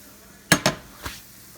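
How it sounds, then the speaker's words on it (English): Eggs are dumped into a pan of chopped hamburger: two quick, sharp metallic clanks followed by a softer knock against the pan, close and alone. "Now, we dump in the eggs."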